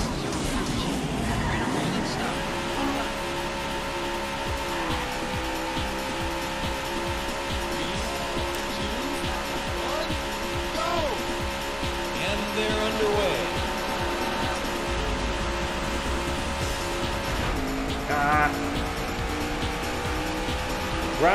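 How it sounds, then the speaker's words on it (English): Race car engines in the Daytona USA arcade video game, a steady loud high whine of engines with shifting pitch and occasional tire squeal, with an announcer voice at times. "Gentlemen, start your engines."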